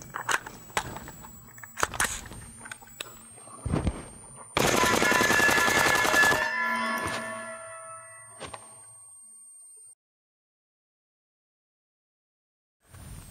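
A suppressed full-auto machine gun empties a full magazine in one sustained, loud burst after a few single shots, followed by ringing steel-target pings and then silence.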